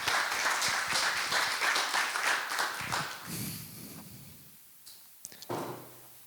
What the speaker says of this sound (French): On peut l'applaudir, je pense.